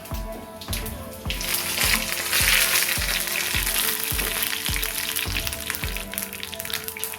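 Dried red chillies hissing and crackling in hot oil with cumin seeds, loud and close, with regular low thumps from the pan under the sizzle.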